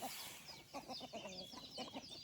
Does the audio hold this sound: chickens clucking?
yes